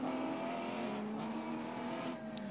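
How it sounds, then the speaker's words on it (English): Drift cars at an international drift competition brake hard into a corner while engines hold a loud, steady revving drone, with a brief squeal near the end. "You see that the drivers have to jump on the brakes there."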